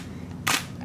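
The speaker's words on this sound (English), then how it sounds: "when you press the shutter, and I don't know whether you can see inside there, the mirror flips up" A single sharp click-clack of a digital SLR camera shutter firing with its mirror flipping up, brief and close against a quiet low room hum.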